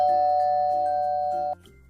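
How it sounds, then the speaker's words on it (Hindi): A house doorbell rings, a loud sustained electronic chime tone with repeated pulses lasting about a second and a half before cutting off, with no speech. "तभी बालबीर के घर की डोरबेल बजती है।"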